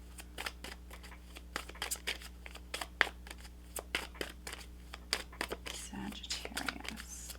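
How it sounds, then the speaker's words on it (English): Tarot cards shuffled close up, a quick run of crisp riffling and tapping bursts in an uneven rhythm over a low steady hum, faint overall, with a voice briefly speaking near the end. "if you don't like the shuffling, guys, just fast forward"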